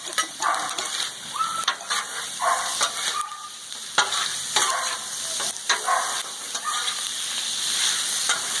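Fried rice frying on a hot Blackstone griddle, a steady sizzle broken by repeated scraping and clacking of spatulas on the flat top, heard close with no talking.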